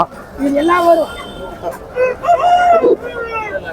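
Chickens cluck and a rooster crows repeatedly at close range at a village poultry market in Kundarapalli, with a busy murmur of voices around them.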